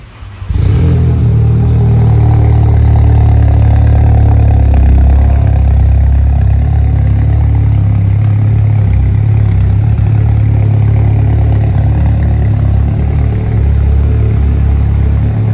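Skoda Laura VRS with an APR tune runs loud and close, a deep steady engine drone with a low throaty rumble held continuously after a brief start.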